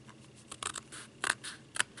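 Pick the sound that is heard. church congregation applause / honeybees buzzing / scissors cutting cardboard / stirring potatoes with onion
scissors cutting cardboard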